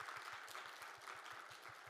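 An audience at a university lifelong-education results-sharing event in Seoul gives a soft, steady round of applause, dense clapping heard at a distance and fairly quiet throughout.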